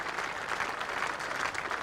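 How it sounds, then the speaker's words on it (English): Brief, steady applause from a cricket crowd and teammates for a departing batsman, a dense wash of clapping with no break. "Warm applause from his teammates."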